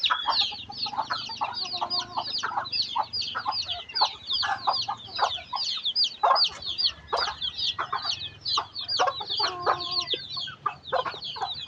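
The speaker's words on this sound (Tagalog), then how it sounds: "Ang daming alagaan niyang manok ha." A hen with her many chicks, rapid overlapping high cheeps and peeps from the chicks with lower clucks from the hen, close and continuous outdoors.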